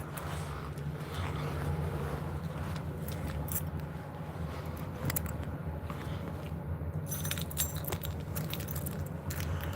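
Keys jangle in a handbag or pocket, with faint, irregular metallic clinks over a low steady background rumble.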